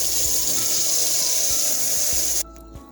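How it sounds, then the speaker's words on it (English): Mushrooms being rinsed and rubbed in a strainer under a running kitchen tap: a steady close water hiss with soft rubbing thumps, then the flow cuts off near the end, leaving quiet handling. "dump them in your strainer there, and go ahead and clean them"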